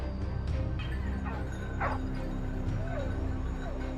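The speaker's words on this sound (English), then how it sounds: "the baying of hunting dogs echoed, signaling the wild hog's location" Hunting dogs bay and yelp while tracking a wild hog, several short barks and whimpers sounding at moderate distance over a steady outdoor hum, with a voice talking underneath.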